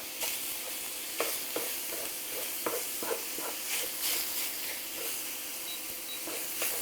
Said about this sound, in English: As this is browning up